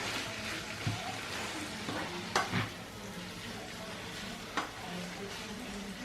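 A utensil stirs food frying in oil in a pot on a stove, a steady sizzle with occasional scraping knocks and clinks against the pot, close and continuous.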